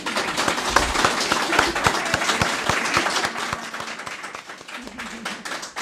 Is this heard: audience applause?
yes